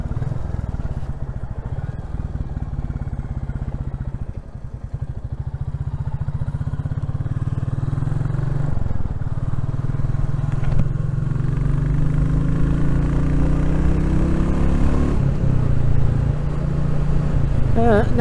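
Royal Enfield Classic 350 motorcycle ridden along country lanes, its steady low single-cylinder thump and heavy wind rush continuous throughout, with the engine note rising briefly near the end.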